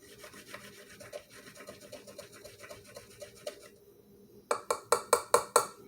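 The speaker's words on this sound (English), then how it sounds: "use the end of a fork to grate a nutmeg. Just run it over the tines of the fork." A whole nutmeg is rubbed over the tines of a fork, making a fast, fine rasping scrape in quick repeated strokes that are quiet and close. A brief pause follows, then a handful of louder, sharper scraping strokes.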